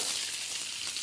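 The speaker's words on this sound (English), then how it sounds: "Okay, you hear the sizzle again?" Loud, continuous sizzling of vegetables frying in a hot pan for a beef stir fry, close and steady with no voices.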